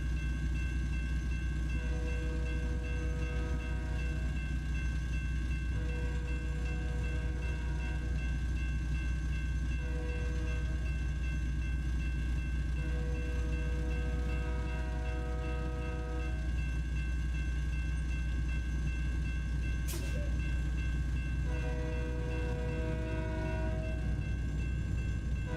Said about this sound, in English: Oh, look at that. We got an intermodal train.